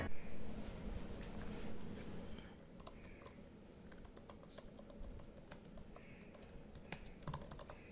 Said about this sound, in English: the sound of the keys are great